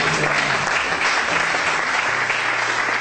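A church congregation applauds Jesus as king during a French-language sermon, dense continuous clapping from many hands, loud and steady, with a low musical hum underneath and no clear speech.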